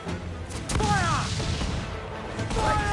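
Ship cannons firing a broadside in Assassin's Creed Black Flag, heard as a sharp crashing blast followed by a sweeping whistle and rumbling impacts, then a further volley against steady background battle noise.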